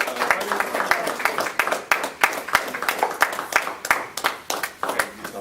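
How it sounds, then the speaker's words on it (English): Applause from an audience greeting Herman Muhammad at a talk, a dense run of sharp individual claps repeating fast and fairly close for several seconds, with speech faintly under it. "let's receive our brother Herman Muhammad with a round of applause"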